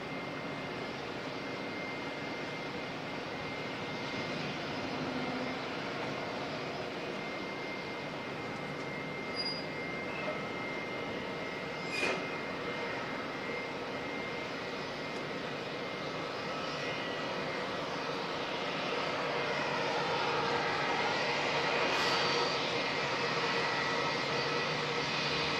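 An airliner coming in to land at Auckland Airport, a distant, continuous engine roar and whine that swells gradually louder toward the end, with a couple of faint clicks and no talking.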